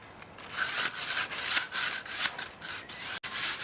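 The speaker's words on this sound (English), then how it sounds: "Also the pieces without the strip get some sanding." Sander working across a strip of wood for a sailboat mast's luff rope groove, a steady close abrasive rubbing in pulsing strokes with brief dips between passes.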